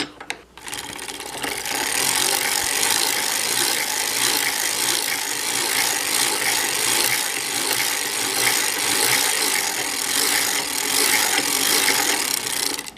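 A vintage hand-cranked sock knitting machine working a 1x1 faux rib, giving a continuous dense mechanical clatter and rasping ratchet of needles, steady and close for the whole stretch after a brief start, with no speech.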